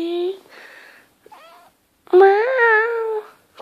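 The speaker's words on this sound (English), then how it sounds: "I found a cat. One sec, let me pick her up." A pet cat meows several times, with clear rising and falling cries close by, separated by short pauses as someone talks to it nearby.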